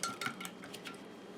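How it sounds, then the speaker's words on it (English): A small whisk rattles and clinks against a bowl while mixing batter for strawberry sourdough scones, a brief, fairly quiet burst of quick metallic taps that fades within about a second. "I'm just going to whisk this around a little bit here."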